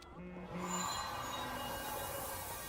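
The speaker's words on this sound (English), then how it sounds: "Amidst the panic, the train exits the tunnel." Train exiting a tunnel in the video game Love and Deepspace, a faint rolling rumble with high drawn-out metallic squeals and tones that shift as the sound opens up, steady throughout.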